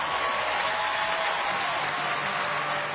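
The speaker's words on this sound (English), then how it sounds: "I think everyone here should stand up and applaud you." Studio audience applauding after a Dancing with the Stars foxtrot, a dense, steady wash of clapping that fills the room at full strength throughout.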